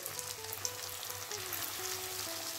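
Bengali cabin-style egg chops deep-fry in hot oil, a steady close bubbling sizzle with fine crackles running continuously throughout.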